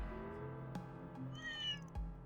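A cat meows once in the Trails Through Daybreak II video game, a short rising-falling call heard over a steady bed of game music and ambient hum.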